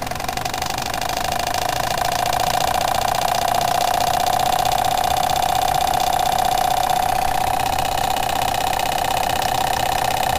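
A Jensen 25 engine runs steadily at about 1,000 RPM, a continuous close mechanical hum with a strong steady tone that holds evenly throughout, with no voices.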